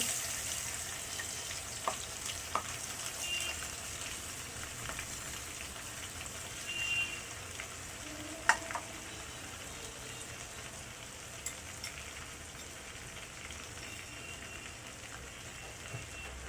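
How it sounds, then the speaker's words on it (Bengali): Dried mourala fish frying in hot oil, a steady soft sizzle and crackle running throughout with occasional faint pops and stirs, close and alone with no talk. "মাছগুলোকে আমি ভালোভাবে টাটকা ফ্রাই করে নিব"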